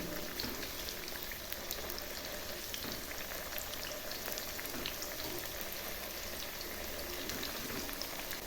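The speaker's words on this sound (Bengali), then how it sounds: "প্রথমে আমি মিষ্টি কুমড়োগুলো ভেজে নিচ্ছি।" Sweet pumpkin pieces fry slowly in hot oil over low heat, giving a steady, even crackle and fine spattering that runs unbroken throughout with no talk.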